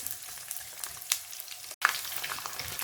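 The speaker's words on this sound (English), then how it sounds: "Fry these until they are golden brown in color from all sides." Cubes of paneer fry in hot oil until golden brown, a steady close sizzle with occasional light stirring clinks and a brief gap of silence.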